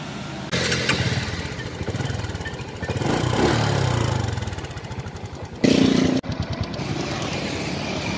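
A 2008 Honda Future Neo motorcycle with a carbureted engine and original engine head runs close by, its steady putter rising and falling with throttle, then briefly cutting and picking up again.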